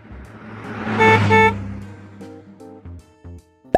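A car horn honks twice in a loud double beep, followed by a few shorter, quieter toots amid engine sound.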